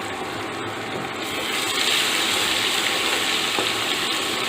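Cumin, crushed garlic and chilli, and a pinch of asafoetida sizzling in hot ghee for dhaba-style garlic spinach, a continuous close crackling hiss that swells slightly louder partway through.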